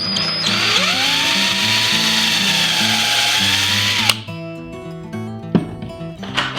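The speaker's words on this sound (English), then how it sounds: "I'm going to use a VIX bit." Power drill boring pilot holes for cabinet door hinge screws with a VIX self-centering bit, a steady whirring run of about four seconds followed by shorter stop-start bursts and clicks, close and clear.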